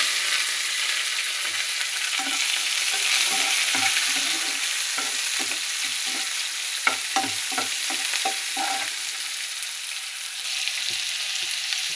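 A large onion frying in a pan with mustard seeds, urad dal and curry leaves, a steady sizzle under a run of spatula stirs and scrapes, no talk.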